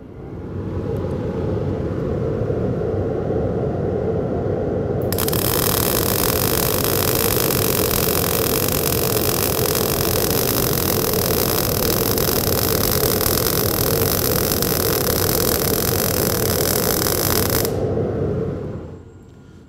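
MIG (GMAW) welding with too low a wire feed speed, a loud steady hiss and crackle running for about thirteen seconds over a constant low mechanical hum, no talk over it.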